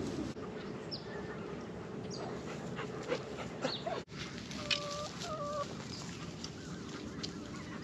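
Chickens clucking in a backyard pen with a dog barking nearby, short clucks and calls rising over steady outdoor background noise, with no talking.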